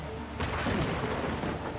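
Thunder and steady rain in the video game The Gardens Between, a soft continuous rain wash with a rumbling thunder swell rising partway through, moderately loud with no talking.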